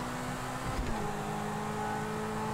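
Car engine in Grand Theft Auto V revving and accelerating, a steady game-engine drone with a pitch shift and a brief bump near the middle, continuous and fairly loud with no talk.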